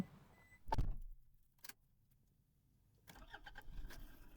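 A 20-year-old 2005 Toyota Vigo automatic 4x4 pickup gives a sharp clunk, then after a quiet pause its engine catches and settles into a steady, close idle.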